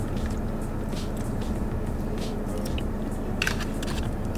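Someone bites and chews chicken up close during an Italian food mukbang, with soft wet chewing and a few sharper crunchy bites over a low background hum, without any talking.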